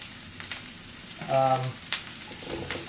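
Vegetables and tempeh stir-frying in a very hot pan for a vegan stir fry, a steady sizzle with a brief tonal scrape or clink partway through and a few soft stirring knocks.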